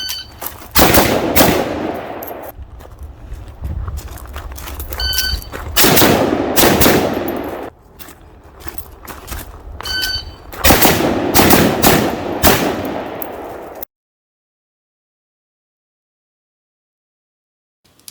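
Shots from a PSA GF5 Romanian underfolder rifle fired outdoors, several loud bursts of rapid gunfire separated by short pauses, ending in silence.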